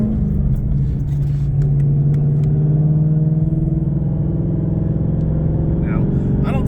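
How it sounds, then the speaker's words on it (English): A 2024 Ford Mustang GT with a new exhaust and suspension is driven in second gear, its deep, steady exhaust rumble heard from inside the cabin, loud and continuous with a slight rise, without talk over it. "so you can hear that nice exhaust note"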